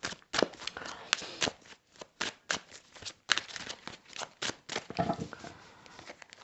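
A deck of playing cards is shuffled close up in a series of quick, crisp riffling bursts with short pauses between them, continuing for several seconds.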